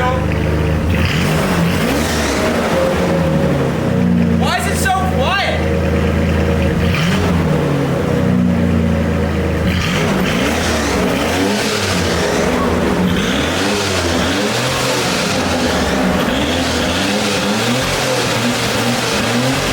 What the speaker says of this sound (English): is either going to be the best or the worst sounding exhaust I've done in quite a long time